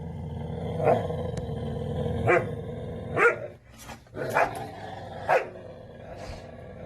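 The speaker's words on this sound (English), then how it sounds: "he's growling and biting with the object still in his mouth" Dog resource-guarding an object held in its mouth, a continuous low growl broken by several sharp barking snarls and snaps, close and loud with no voices.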